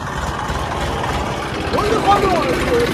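A tractor engine draws closer with a steady low rumble and chugging pulse, growing slightly louder toward the end while people talk over it.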